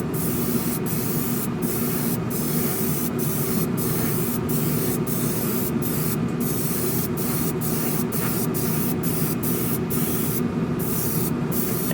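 Steady hissing of an aerosol spray can painting plastic model car parts, running continuously, punctuated by brief pauses as the nozzle is released and pressed again.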